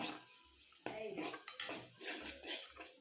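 Utensil scraping and clinking against a pan as asafoetida is stirred into a frying paste for thoothuvalai rasam, with quiet sizzling underneath; brief, fairly soft, irregular metallic scrapes.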